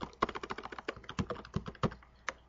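Fast, steady keystrokes on a computer keyboard typing a database query, a quick run of light close clicks with a few heavier taps near the end, quiet overall.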